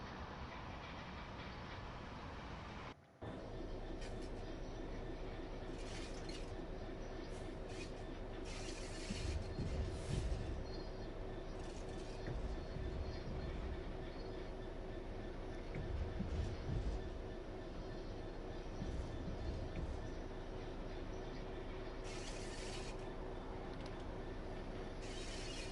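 A passenger train rolls steadily through Train Sim World 5 near Wembley, with a continuous mechanical hum, rhythmic wheel rumble and occasional louder bursts of track noise over a long stretch.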